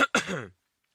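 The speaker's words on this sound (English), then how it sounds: "Then he coughed awkwardly" A man gives a single short, awkward cough, like a throat-clearing burst, close and fairly loud, followed by silence.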